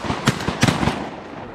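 Shotgun blasts on a mallard duck hunt along the Snake River in Idaho give a couple of sharp, close cracks in quick succession, with outdoor noise trailing after.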